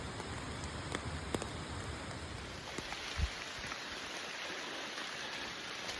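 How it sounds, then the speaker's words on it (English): Steady rain falls on a southbound Appalachian Trail thru-hike near Chairback Mountain, a soft, even wash of patter with a few sharper drops, heard alone at moderate loudness. "I'm hiking in the rain all day today and all day tomorrow."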